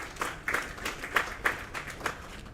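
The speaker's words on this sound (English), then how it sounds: "People were clapping" Light, scattered clapping from a small pool match audience at the 2023 Qatar Open, a few distinct hand claps standing out over a soft patter, fairly quiet and distant.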